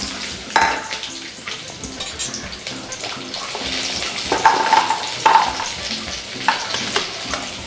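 Small shallots frying in oil in a kadai for a fish kuzhambu, a steady sizzle with stirring scrapes and a few louder clatters, up close with no talking.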